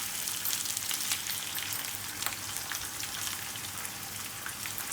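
Minced meat sizzling in a pan with fried garlic and ginger for restaurant-style qeema chaney, a dense, steady crackling hiss with no talk.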